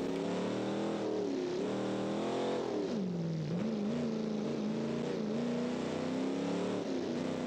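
A race car engine in the BeamNG driving game drones continuously, its pitch sweeping up and down as it revs through the gears, sustained and close throughout with no talk.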